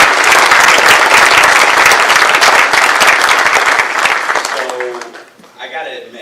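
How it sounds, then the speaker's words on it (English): A large crowd at a gala applauds loudly and steadily for several seconds before the clapping fades and a voice begins speaking. "Let's give you a round of applause."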